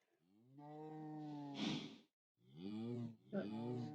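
Cows mooing in the Minecraft video game, a few drawn-out, harmonic moos close up, one after another with brief gaps between them, clear and alone.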